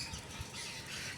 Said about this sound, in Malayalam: ഇതാ കിളികൾ